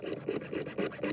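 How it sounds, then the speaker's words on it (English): A hand file rasps back and forth across the cut end of small metal tubing held in a jig vise, rapid regular strokes, close and moderately quiet. "File and sand both ends of the tubing to be flat."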